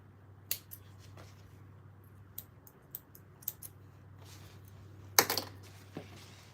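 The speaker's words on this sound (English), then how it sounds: "So we want to get our little scissors." Small craft scissors snip at a table in a series of sharp, separate clicks and cuts, with a louder cluster of snips near the end over a steady low room hum.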